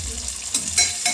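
Onion frying in a pan, with salt added, gives a brief close burst of sizzling with a few quick spatula scrapes, no speech.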